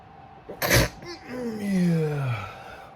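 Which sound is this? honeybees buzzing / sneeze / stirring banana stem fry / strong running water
sneeze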